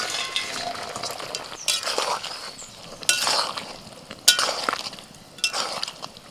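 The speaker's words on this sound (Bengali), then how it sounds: "5 মিনিট পর ঢাকা খুলে ভাজা মাশরুমগুলো দিয়ে দিচ্ছি।" Fried mushrooms tipped into a chilli mushroom gravy and stirred with a utensil, giving soft scraping and occasional clinks against the pan over a low simmer, with a few sharper knocks.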